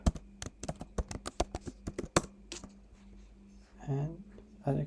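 Someone types a password on a computer keyboard on macOS: a quick run of close key clicks, then a pause, with brief speech at the end.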